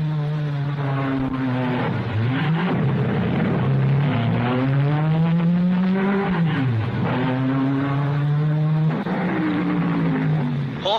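Vanwall and Ferrari race cars at the 1955 Monaco Grand Prix, engines roaring loud and close with rising and falling pitch as they shift gears and pass, continuous throughout.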